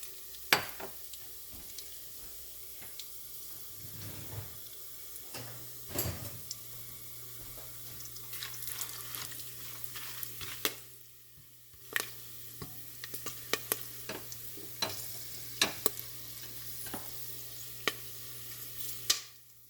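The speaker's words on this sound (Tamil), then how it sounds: "நல்லா எண்ணெய் கொதிச்சிட்டுது இப்போ நாங்கள் பட்டை கராம்பு ஏலக்காய் எல்லாம் போடுறோம்" Cinnamon, cloves and cardamom dropped into hot oil for crab biryani, a quiet crackling sizzle with sharp scattered pops and stirring clinks, plus a low steady hum beneath, no talking.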